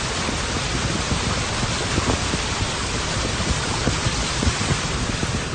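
Heavy downpour during monsoon flooding in Rajasthan and Telangana, a dense continuous hiss of rain with scattered drops pattering on surfaces, steady and loud from start to finish.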